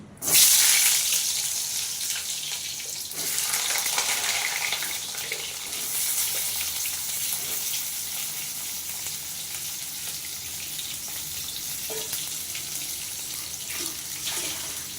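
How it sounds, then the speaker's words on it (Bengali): Pieces of cut pointed gourd hit hot oil, setting off a loud sudden burst of sizzling that settles into a steady, bright frying hiss lasting throughout, with no talking. "এবার আমি পটলগুলো দিয়ে দিচ্ছি এই যে পটল কেটে রেখেছি পটলগুলো দিয়ে দিচ্ছি"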